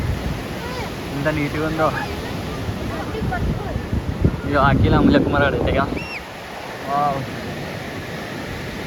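Sea waves at Vizag beach surge and wash ashore in a steady broad roar with wind buffeting the microphone, while people talk excitedly over it.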